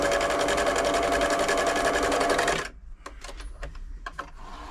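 Singer 6104 sewing machine stitching, a loud, steady, close mechanical whir for a few seconds that stops abruptly, followed by scattered light clicks and taps.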